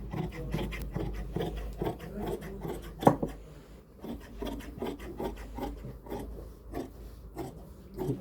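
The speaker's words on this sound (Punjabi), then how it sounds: "ਸਭ ਤੋਂ ਪਹਿਲਾਂ ਆਪਾਂ ਕੰਨੀ ਕੱਟਾਂਗੇ" Scissors or a blade cut along the edge of shirt fabric in a tailoring shop, making close, rasping strokes in an uneven rhythm with a few sharper snips, heard alone without talk.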